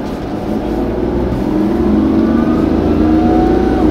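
A Daihatsu Hijet Cargo van running on LPG pulls away, its engine note holding steady and rising gradually in pitch as it drives off, close and continuous with no talk over it.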